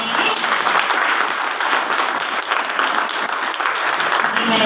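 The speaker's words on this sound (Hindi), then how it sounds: "तो आप सभी इनके लिए ताली बजाएंगे।" An audience claps steadily and fairly loudly at a welcome gathering, with dense sustained applause throughout and no clear talking.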